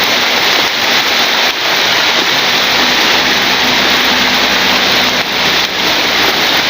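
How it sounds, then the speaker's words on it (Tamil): Steady outdoor rain hisses loudly and continuously across the whole stretch, a dense broadband wash with no voices over it. "மழை பெய்யுது பாருங்கள்."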